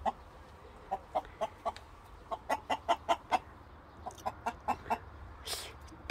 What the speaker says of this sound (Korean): 닭이 세 가지 종류 같은데?